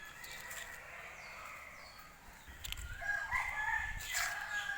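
Roosters crow in the distance at a temple in Chumphon, Thailand, several drawn-out calls overlapping at moderate volume against a quiet outdoor background.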